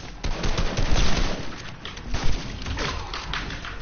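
Gunfire in the video game Fortnite, a rapid burst of shots and thuds followed by scattered further shots, loud and close with no talk.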